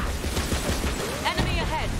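Enemy gunfire aimed at the player in the video game Borderlands 3, rapid popping bursts mixed with game effects and sweeping electronic tones, with voices speaking over the action.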